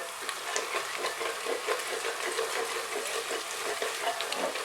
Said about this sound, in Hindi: ये अभी प्याज जो है बड़ा फ्राई हो रहा है